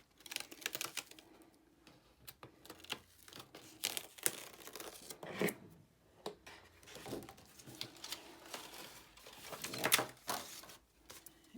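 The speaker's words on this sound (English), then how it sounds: "turn your mat upside down and peel the mat away from the paper" Paper is peeled away from a sticky Cricut cutting mat in a series of soft crackling, tearing bursts with quiet pauses and light handling taps between them.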